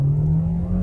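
A 2019 Kia Sportage with a 2.0 engine revs under hard acceleration, a loud, close, low droning hum that stays steady throughout, with no talking.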